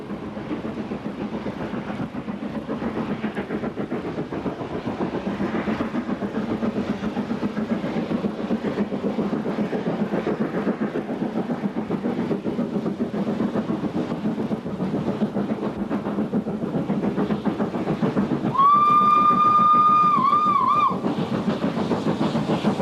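K1 steam locomotive 2005 climbs toward the summit west of Glenfinnan, a steady rumbling labour of the engine and train rolling along throughout, with a long whistle blast sounding near the end.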